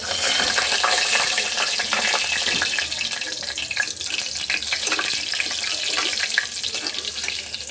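Cumin, mustard seeds, turmeric and curry leaves sizzling loudly in hot oil for masala rice, a steady dense crackle with no talking.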